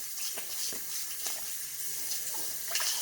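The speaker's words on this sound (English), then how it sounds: "I'm going to wash my hands one more time here" Water running from a kitchen tap while hands are washed during cooking, a steady close rush with small splashes and shifting hand noises, no talking.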